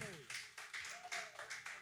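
A church congregation claps together in rhythmic bursts under a loud voice, the clapping fairly distant and mixed with amplified speech.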